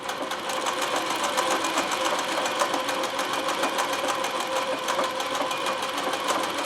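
A Consew CN2053R-1A sewing machine does free-motion embroidery, a fast, even stitching clatter running steadily and close throughout.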